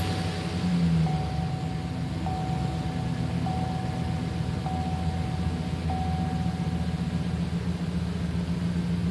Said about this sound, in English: It's idling right at 750 RPM or so